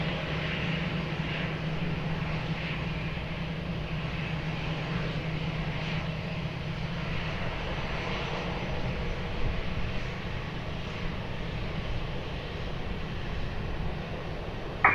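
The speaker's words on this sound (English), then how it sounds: "Ryanair 103 Kilo, wind 240 degrees, 5 knots, variable between 200 and 320 degrees, runway 20, cleared for takeoff" A Ryanair airliner takes off from runway 20 at Lisbon Airport, its jet engines a steady, broad roar heard from a distance and holding level throughout.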